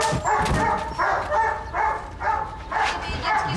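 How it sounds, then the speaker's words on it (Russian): A poodle barks and yips in a run of sharp, loud outbursts roughly every half second, close by and fairly agitated, with faint voices underneath. "Что, вы собаки какой-то испугались? Пуделя, да, собаки испугались, а?"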